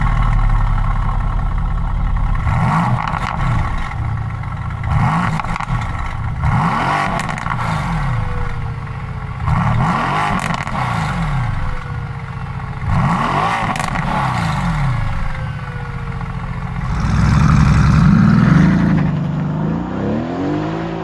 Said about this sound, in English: Just have a listen to the exhaust note.